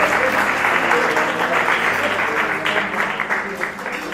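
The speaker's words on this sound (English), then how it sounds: "Let's give them a big round of applause." Applause from guests at a 75th birthday celebration during speeches, a steady, fairly loud wash of many hands clapping throughout, with some murmured voices beneath it.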